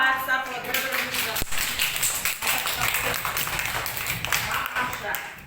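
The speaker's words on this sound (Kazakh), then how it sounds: "Барлығымыз шапалақ әдісі арқылы бір-бірімізді." A classroom of children claps together in a steady, continuous patter of hands that runs throughout, moderately near, with a teacher's voice occasionally speaking over it.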